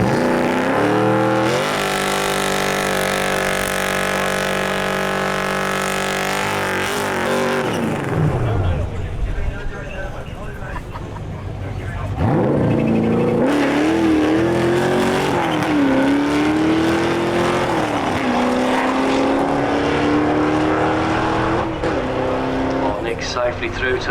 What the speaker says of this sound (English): Ford V8 with a Paxton supercharger